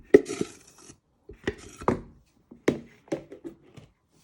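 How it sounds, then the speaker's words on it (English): Wooden spoon scraping and knocking through thick carrot cake batter of egg, sugar, oil, dry ingredients and grated carrot in a bowl, a series of close, irregular stirring strokes and taps with short pauses between them. "you want to carefully stir it all in so it all binds"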